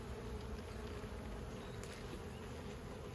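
Honeybees buzzing in a steady, dense drone throughout a hive inspection, close and continuous with no pauses.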